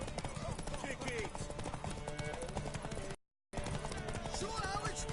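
Hooves clip-clopping from a horse in The Witcher 3 video game, a steady patter of steps under in-game voices and ambient music, broken by a brief dropout midway.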